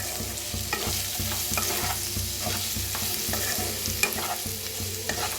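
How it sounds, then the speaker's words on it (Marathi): Steady rhythmic scraping of a spoon stirring spiced masala potatoes with okra in a pan, over a continuous frying sizzle, close and even-paced. "एकदा मिक्स करून भाजूया"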